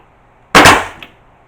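A single sharp, loud nail gun shot close by, driving a 50mm nail in a hay loft conversion, a hard percussive bang with a brief metallic tail, then quiet.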